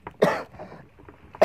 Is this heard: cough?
yes